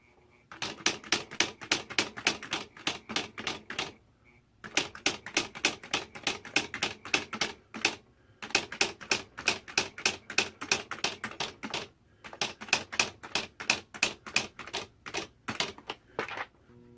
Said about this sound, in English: you can see it's typing very nicely